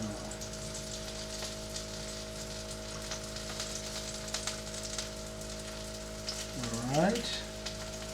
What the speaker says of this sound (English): So now the eggplant is inside here. It's going to suck up a lot of oil, guys, a lot of oil.